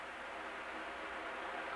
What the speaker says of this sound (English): that noise you hear is the air conditioning